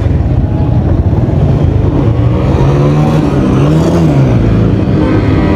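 Loud, close engine roar with rising and falling pitch as motorbikes rev on the street, continuous throughout with no talking.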